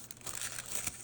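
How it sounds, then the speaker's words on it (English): Paper is crumpled up by hand at a watch-repair workstation, giving a quiet, close crinkling with a few crisp bursts over about a second. "Just crumple up this paper and maybe wipe that up a little bit"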